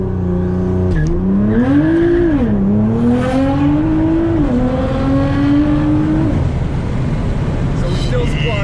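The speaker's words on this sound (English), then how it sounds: "You'll hear it go into launch control here in a second." Nissan R35 GTR launching from launch control: a loud engine rev that surges and climbs through several quick gear changes with brief dips, then fades into road noise near the end, with a voice over the start.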